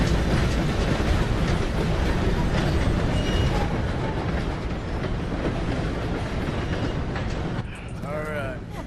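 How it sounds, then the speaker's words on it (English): A train rolls past in Red Dead Redemption 2, a loud continuous rumble and clatter of wheels that fills the whole stretch and eases slightly at the end, where a voice briefly speaks. "Gotta beat that train, Morgan!"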